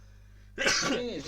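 A single close, loud sneeze bursts out after a short quiet stretch, followed by a brief trailing exhale.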